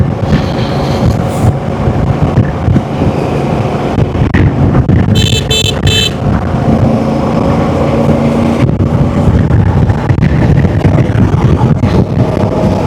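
A car overtakes a motorcycle on a country road in Turkey, heard over the constant loud roar of wind and engine from the moving bike, with a quick burst of short horn toots partway through.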